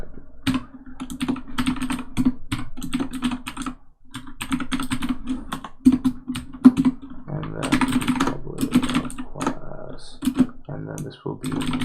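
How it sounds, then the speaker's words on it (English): Code being typed on a computer keyboard produces a steady run of close clicky keystrokes with a few short pauses, and a continuous hum sits underneath. "so, whatever, I'll just type it"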